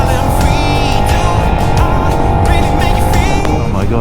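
2020 KTM 1290 Super Duke R motorcycle accelerating hard out of a corner, its engine a loud, close, steadily climbing roar with wind rush and no pauses.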